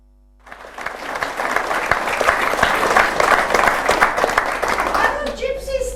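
Audience applause after an amateur dramatics society play, a loud, dense burst of many hands clapping that starts abruptly after a brief quiet and carries on steadily to the end.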